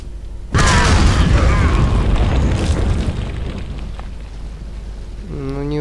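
A grenade blast in Resident Evil 4 bursts loudly after a brief lull, its deep rumbling boom rolling on and fading over several seconds, with a short tonal game sound rising at the end.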